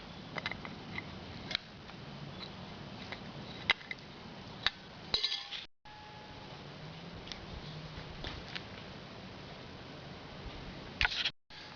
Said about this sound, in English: Now I'll take the choke cable assembly off.